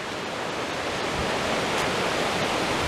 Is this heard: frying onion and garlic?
no